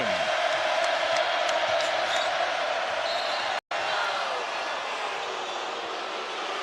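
A home crowd in Baylor's Foster Pavilion basketball arena keeps up a dense, sustained roar, loud and constant with a brief cut, while squeaks and game noise ring through it.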